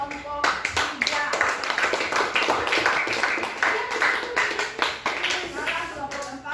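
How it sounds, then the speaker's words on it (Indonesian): Classroom clapping for a student group after its presentation, a dense burst of many hands clapping that runs the whole time, with some voices mixed in. "Tepuk tangan untuk kelompok 3"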